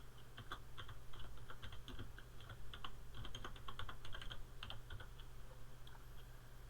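Rapid keystrokes clatter on a computer keyboard while fields are entered into a database table, steady irregular clicking close by over a constant low electrical hum, with no talking.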